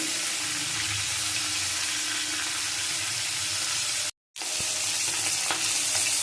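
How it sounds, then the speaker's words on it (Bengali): A hilsa fish head fries in hot oil with a loud, continuous crackling sizzle close by, broken once by a sharp silent gap before the sizzling resumes. "মাথাটা ভাজা চলছে"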